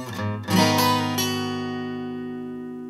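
An acoustic guitar plays a short phrase of a riff, a few picked notes including a hammer-on, then a chord ringing out and slowly fading, close and clear with no voice.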